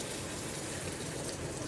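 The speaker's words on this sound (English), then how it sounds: "Okay, now put little bit water," Water is poured into a matar paneer curry in a cooking pot, giving a steady, soft gushing and splashing flow that continues evenly throughout without talk.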